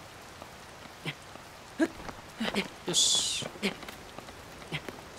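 Rain falls in the video game Zelda: Tears of the Kingdom as a faint, steady patter with scattered soft drop taps. A brief bright game tone sounds midway, and a voice speaks briefly.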